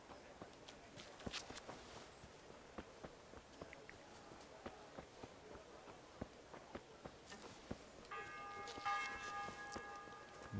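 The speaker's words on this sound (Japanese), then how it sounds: "12時の鐘かな。" A church bell tolls noon in the medieval town of Kingdom Come: Deliverance, repeated strikes sounding faint and distant beneath footsteps and ambient street noise, with a brighter ringing tone swelling near the end.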